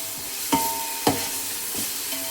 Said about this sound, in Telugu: ఇలా అల్లం వెల్లుల్లి పేస్ట్ వేసిన తర్వాత బాగా కలుపుకోవాలి